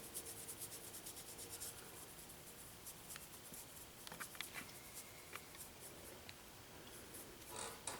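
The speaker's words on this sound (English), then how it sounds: "now I'm more or less just scrubbing that paint on there" Paintbrush scrubbing paint onto the seat of painted overalls, a faint, close, continuous rubbing and scratching with small dabbing ticks, no talking.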